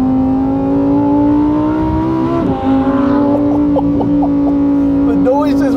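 Lamborghini Huracan STO engine in Trofeo mode, a loud sustained high-pitched roar heard from inside the car, rising slightly then broken by sharp gearshift pops and crackles, with a voice speaking briefly over it.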